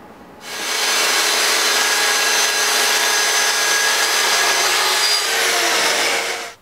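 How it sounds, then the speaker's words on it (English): Table saw ripping through plywood with a steady, loud, close whine and rough cutting rush that holds for about six seconds, then drops away as the cut ends. "if you're cutting your plywood on the table saw, well, first of all, be very careful"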